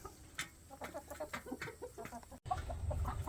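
Backyard chickens cluck and chatter in short, repeated bursts while pecking at dried grubs, several birds close by and overlapping, the clucks continuing over a low background rumble.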